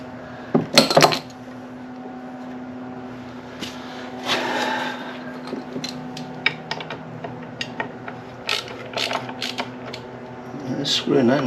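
A part is screwed into an Opel engine in a workshop: close, intermittent metallic clicks, taps and scraping, with a sharp clatter at the start and busier rattling near the end.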